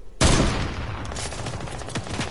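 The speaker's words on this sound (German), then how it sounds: "Da kommt nämlich was ein Schuss auf mich." A sudden loud gunshot blast in a video game followed by a rapid, rattling burst of gunfire that trails off, close and sharp.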